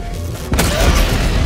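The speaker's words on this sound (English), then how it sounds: "there might be a big bomb going off" A big bomb goes off in Helldivers: one sudden, loud, deep blast that rolls on as a rumbling roar over ongoing battle noise.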